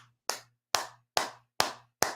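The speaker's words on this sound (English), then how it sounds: "You're clapping a guy who uses brass knuckles as his finishing move." Five sharp, evenly spaced hand claps ring out close and alone, each cracking on its own with a short decay and a quiet hum lingering between them.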